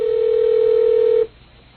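A steady telephone dial tone hums loud and close for just over a second before cutting off abruptly, leaving a faint quiet background, as a phone line is opened to call Cleveland.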